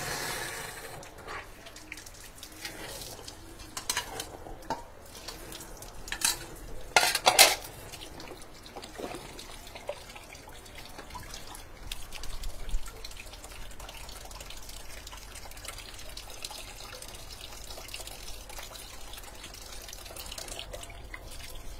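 Dishes and hands are washed under a running tap: a continuous stream of water with intermittent clinks and clatters of plates and utensils, louder bursts in the first half, and no talking.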